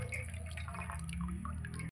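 Chhana whey draining through a strainer after curdling, a steady soft trickle and patter of liquid running continuously and close by, with no voices.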